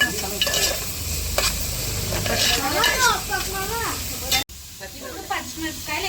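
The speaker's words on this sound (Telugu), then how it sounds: "ఫస్ట్ ఆయిల్ వేడెక్కాక ఉల్లిపాయలు బాగా ఫ్రై చేసుకోవాలి" Onions frying in hot oil in a pan for a Konaseema-style fish curry, a steady broadband sizzle with stirring scrapes, partly masked by a person talking over it, with a brief cut near the end.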